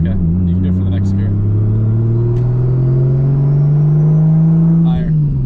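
A Nissan R34 Skyline's engine revs steadily upward under acceleration, a loud close drone climbing smoothly in pitch for several seconds before easing off at a shift, with brief voices inside the car.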